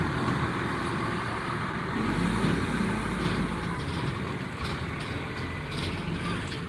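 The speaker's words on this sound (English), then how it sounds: "trash truck, turning around" A garbage truck turns around on a street, its engine rumbling steadily and close by with a low, continuous drone and faint higher mechanical hiss, no clear voices over it.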